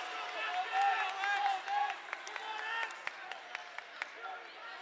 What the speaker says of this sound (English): Crowd being vocal with the referee.